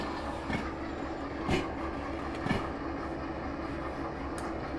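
A DE2 locomotive in the train-driving game Derail Valley rolls back along the rails with a steady low rumble and a few soft clunks of wheels over rail joints, heard alone and moderately loud.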